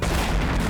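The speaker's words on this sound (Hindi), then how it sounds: "ये आवाज कैसी? लगता है कहीं धमाका हुआ है।" A loud, sustained rumbling blast with dense low-end roar fills the whole moment, like an explosion or tunnel collapse heard in a dramatic TV crime series, with no talk over it.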